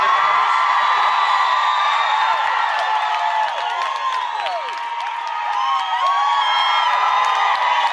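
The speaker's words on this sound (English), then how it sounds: "That goes down as the loudest ladies of cheer I've ever gotten on stage." A big concert crowd of women at a Christian music show in Nashville shrieks and cheers loudly, with high whoops and shouts layered into one steady roar that dips slightly mid-way and then swells again.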